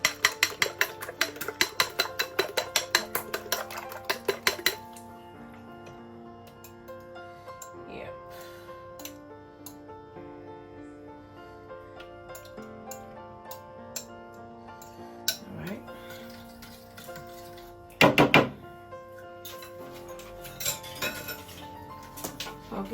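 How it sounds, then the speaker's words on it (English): Three eggs are mixed in a bowl for cake batter, with a rapid run of light clinking utensil taps at first, then quieter scattered clicks and a brief louder clatter near the end, under intermittent talk. "Just three eggs. Have to mix this nicely."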